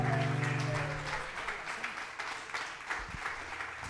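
A church congregation at an evangelical weekly service in Cartago breaks into applause as a sustained organ-like tone fades out; the clapping is moderate and scattered, continuing steadily to the end.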